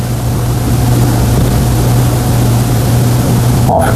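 A 12V servo motor spins freely and unloaded, giving a steady, continuous loud hum with a constant low drone throughout, and a brief higher-pitched blip near the end.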